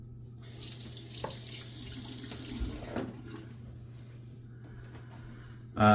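Water runs steadily from a tap for several seconds while wetting shaving soap, a soft continuous splashing with a faint hum underneath, ending in a brief louder clatter.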